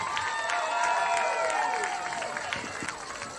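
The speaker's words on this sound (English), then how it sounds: "Let's give a huge round of applause and support for the awesome group of the boys" Crowd at a high school varsity football game applauding and cheering the youth team, a dense wash of clapping and shouts with whistles, under an announcer's voice.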